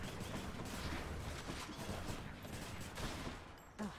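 Starfighter blaster fire in the Star Wars Squadrons game, a dense rapid fusillade of shots that runs continuously, ending in a sharper burst near the close.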